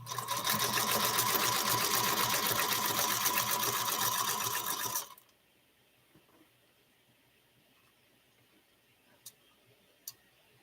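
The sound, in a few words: sewing machine sewing half-square triangles on paper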